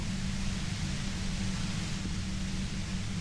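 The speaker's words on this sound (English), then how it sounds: "The violet-white noise becomes even more overwhelming closer to the compressor." A dense, steady wash of violet-white noise hisses near a compressor in the game Disco Elysium, a constant loud broadband roar with a low hum beneath, unbroken and with no voices.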